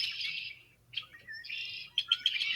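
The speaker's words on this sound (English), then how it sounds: "I'm playing a video from my phone of the sound of the red-winged" Red-winged blackbird song played back through a phone speaker: repeated bright trilling calls and chirps, a few sharp notes near the end, moderately loud with a faint low hum beneath and no talking.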